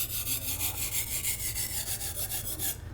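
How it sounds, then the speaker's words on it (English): A blade is drawn with short, rhythmic strokes across a rough sharpening stone, a steady gritty rasp repeating about five times a second, close and fairly quiet, with no talk. "I'm going to use the rough stone again with the shorter strokes"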